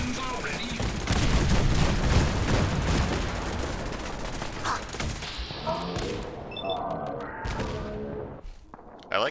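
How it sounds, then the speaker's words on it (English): Cannon fire in the Fallout 4 video game, a dense barrage of booming shots and thuds that gradually thins out, ending in scattered sharper reports and brief tonal effects. "The cannons are ready."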